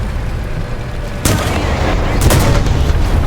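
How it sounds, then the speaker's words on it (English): Gunfire strikes a tank in War Thunder, sharp loud impacts cutting through engine rumble, one heavy hit followed by a few more cracking shots close by. "What is shooting me in the ass?"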